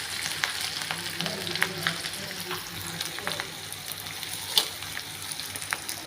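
Onions sizzle and crackle in hot oil for poha, a steady quiet frying hiss with small pops and a stirring scrape, no voices heard.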